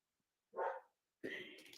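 A dog gives one short, close bark, followed after a pause by a longer, louder burst of barking or vocal noise, with no other sound around it.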